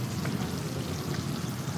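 A second batch of potato wedges for french fries frying in hot oil, a dense, even bubbling sizzle up close with no talking.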